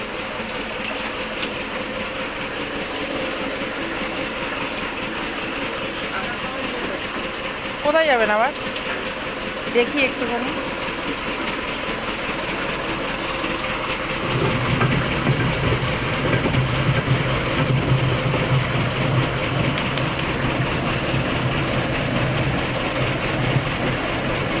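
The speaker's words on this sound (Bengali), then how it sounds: "এই মেশিনটাতে ধান চিড়াটা কোটা হয়, ধান থেকে চিড়া তৈরি হয়" A chira mill machine pounds roasted paddy into flattened rice with a continuous rumbling, rattling drone. People talk over the noise, and the machinery deepens and grows heavier partway through.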